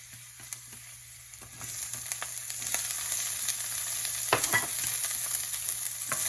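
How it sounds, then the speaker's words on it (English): Garlic and broccoli stir-fry in hot oil, giving a steady close sizzle that grows louder and denser after the first second and keeps going with small crackles and pops. "We're going to fry the garlic"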